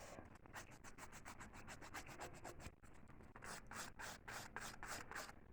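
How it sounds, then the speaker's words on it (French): A nail file rasps away excess artificial nail material in quick, even back-and-forth strokes, faint and close, with a brief pause midway before the rhythmic filing resumes. "c'est mieux d'enlever un peu le surplus avec un lime"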